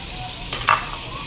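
Shrimp go into a pan of frying sausage, bringing two quick splashy sizzles over a low background hiss of cooking, with no voices.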